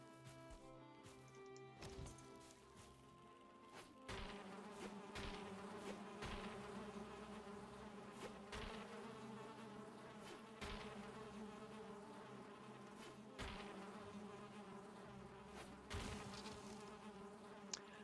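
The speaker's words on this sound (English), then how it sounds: "look, more bees" Video game bees buzzing, a dense, continuous insect drone, fairly loud and close, broken by a few sharp knocks and clatters.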